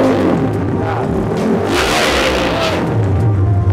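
A modified Suzuki Supra 250cc motorcycle engine revs loud and close in rising and falling bursts, with a raspy mid-range whine over a steady low rumble and no talk.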